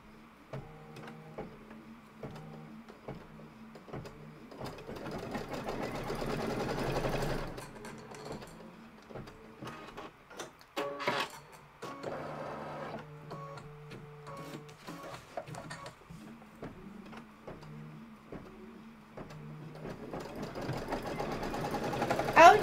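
A sewing machine stitches a tack-down line on a quilted gift-box block, a few faint mechanical whirring runs with pauses between them, near and quiet, with soft handling clicks.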